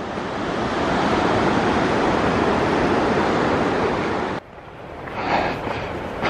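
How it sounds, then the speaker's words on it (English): A mountain river on the Pioneer Trail toward Spaulding Lake in California rushes steadily as a loud broadband roar, then cuts to quieter, more distant water noise near the end. "We have another opening here to watch the river."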